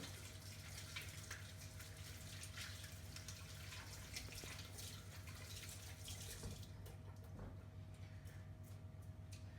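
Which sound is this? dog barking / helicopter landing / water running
water running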